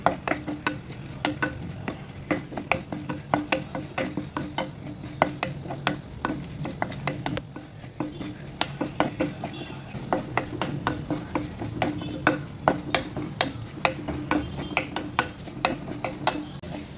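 Dried shrimp, washed and cleaned, dry-roasting in a clay pot on the stove, with steady stirring scrapes and frequent sharp clinks of a utensil against the pot over a low background hiss, close and continuous.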